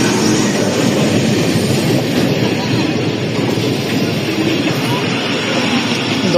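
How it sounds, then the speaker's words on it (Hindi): Pakistan Railways rail car 4558 pulls into a crowded Gujranwala railway station, a loud, continuous rumble and rattle of the train throughout. "आ गई जी रेल कार"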